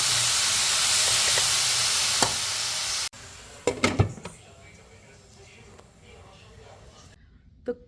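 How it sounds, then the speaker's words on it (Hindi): Food being fried with salt in a pan in a home kitchen: a steady loud sizzle and hiss for about three seconds, then quieter stirring clinks and scrapes that fade toward silence. "इसमें नमक जाएगा और इसको अच्छे से भूना जाएगा"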